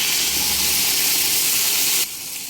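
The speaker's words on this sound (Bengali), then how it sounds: "আন্দাজ মতো গরম জল দিয়ে দিলাম" Hot water goes into a pan of soybean and potato curry, making a steady loud hissing sizzle that drops off sharply near the end.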